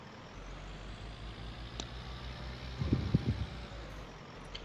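A vehicle in a farming simulation game drives along with a steady low engine drone, joined near the end by a brief burst of louder, rumbling clatter.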